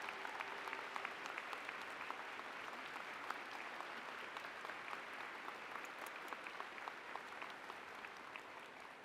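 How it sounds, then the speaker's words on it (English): Steady applause from a large audience at a university spring convocation ceremony, sustained and even throughout, with a brief tone near the start and no speech over it. "Our name readers, let's give them a big round of applause."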